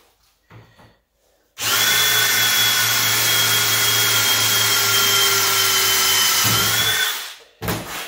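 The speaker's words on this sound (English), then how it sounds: "Need to put another sharper drill bit in that." A power drill bites into scrap steel body panel with a loud, steady high-pitched whine lasting several seconds, then stops; brief handling noises before and after.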